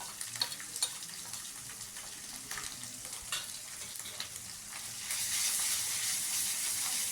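Onions with ginger-garlic-green chili paste frying in a pan, a steady soft sizzle with faint scraping stirs, swelling to a louder, brighter hiss in the final seconds.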